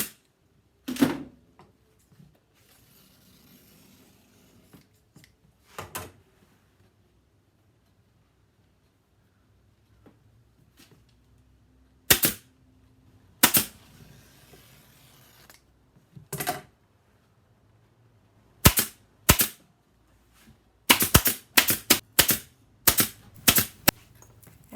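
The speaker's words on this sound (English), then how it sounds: "And that just gets stapled onto the bottom edge." A staple gun fastens a bottom liner onto the underside of a handmade upholstered ottoman, firing sharp, close snaps spread across the clip, a few isolated at first, then several quick bursts near the end, with no talking.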